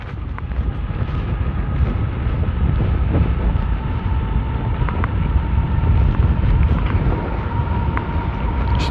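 Strong wind of about 25 miles an hour buffets the microphone during an e-bike ride, a continuous low roaring rumble, loud and unbroken throughout.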